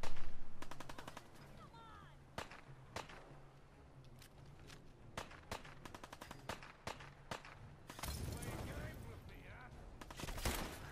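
Rapid bursts of gunfire in Fallout 4, sharp repeated shots in quick volleys and single cracks, loud at the start, then spaced out before a denser flurry near the end.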